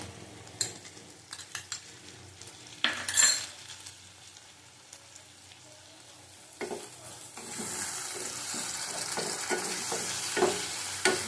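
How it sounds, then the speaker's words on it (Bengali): Egg curry with yogurt frying in a pan, stirred with a spoon: scattered clinks and scrapes over a soft sizzle that swells into a steady, close hiss in the second half. "আবার ভালো করে কষিয়ে নেব।"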